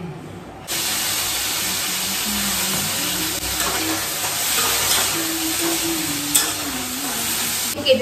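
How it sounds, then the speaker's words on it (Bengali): Sliced ridge gourd frying with salt and turmeric in a home kitchen, a steady close hiss and sizzle throughout with occasional stirring clinks. "তো প্রথমে আমি ঝিঙেগুলোকে নুন আর হলুদ দিয়ে ভেজে নিচ্ছি।"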